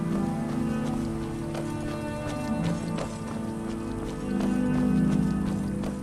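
Horse hooves in Skyrim clatter in a steady galloping rhythm, fairly close and continuous, with a dense game soundscape underneath.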